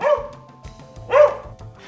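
A dog barks twice, close and fairly loud, each short bark separated by a pause, with faint background noise in between.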